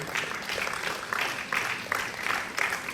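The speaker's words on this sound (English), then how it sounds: "Please welcome them on stage with a round of applause." Sustained audience applause at a silver jubilee celebration, steady and full throughout with dense clapping from a large crowd, swelling slightly in waves.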